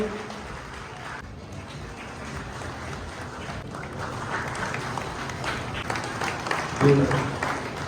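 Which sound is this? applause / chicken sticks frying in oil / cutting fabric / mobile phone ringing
applause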